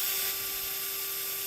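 A power drill whines steadily as it bores straight into a guitar body during a Firebird-style kit build, a bright continuous buzz with a constant hum beneath, close and loud.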